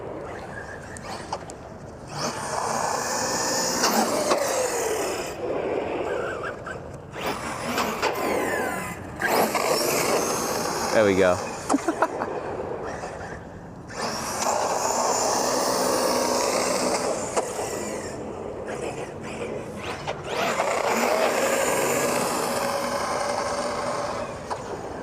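A Kronos XTR 6s on-road RC car accelerates hard for wheelies, giving repeated loud motor whines in bursts separated by brief gaps, with a man's short remark between runs.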